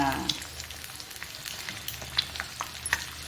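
Half-fried egg seasoned with salt, turmeric and masala sizzling in a pan, a steady close crackle with scattered sharper pops and light scraping, no talk.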